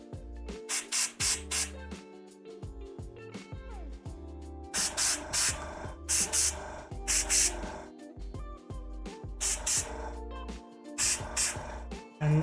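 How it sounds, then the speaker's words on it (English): Aerosol spray can spritzing a miniature during painting, a series of short loud hissing bursts in uneven groups separated by quiet pauses, over faint background music. "Do like a spritz on each of these like little charms things."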